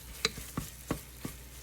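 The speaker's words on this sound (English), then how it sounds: "consistently making sure you're consistently stirring it" A spoon stirring food in a pan while cooking, four evenly spaced scraping strokes close by over a faint sizzle, no talk.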